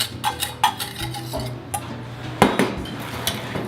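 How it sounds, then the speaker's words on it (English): Egg yolk being mixed with sugar and cornstarch in a bowl gives a run of close clinks and scrapes of a utensil against the bowl, fairly loud and irregular, with a sharper knock near the end and no voices. "We are gonna mix the yolk with the mix of sugar and cornstarch. I want to mix it together."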